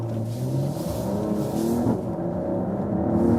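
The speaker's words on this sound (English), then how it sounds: "I'll put to the Sports Plus mode and let's accelerate it out." Mercedes-AMG GLE 53 Coupe accelerating hard in Sports Plus mode, a continuous engine drone whose pitch sweeps upward, dips at a gear change, then climbs again, heard from inside the cabin.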